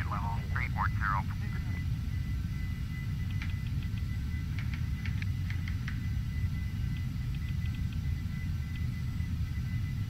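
Steady low jet engine drone of a Carenado EMB 505 Phenom 300 in the FSX flight simulator, cruising at flight level 340 against a headwind, continuous and even throughout, with a brief voice near the start and faint clicks above.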